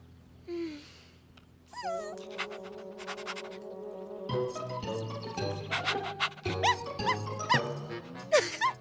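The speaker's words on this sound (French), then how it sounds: "Quel cabot, celui-là!" A cartoon dog yips and barks several times over a busy animated-show music score, with a short whine near the start and sharper yaps later on.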